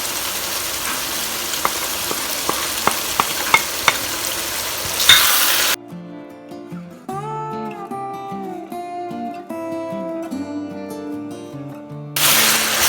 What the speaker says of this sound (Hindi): अब हम इसमें स्पाइसेस ऐड करते हैं।